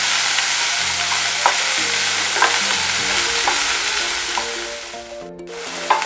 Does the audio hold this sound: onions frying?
yes